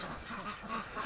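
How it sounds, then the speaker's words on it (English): A breeding-flock duck quacking close by in short, soft nasal calls over about a second, with no talk. "Oh, you're a beautiful looking duck."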